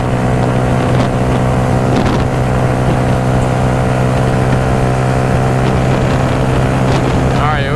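A motorcycle engine held near 8,000 rpm while cruising on an interstate hums as a loud, steady, close drone, mixed with heavy wind rush past the microphone.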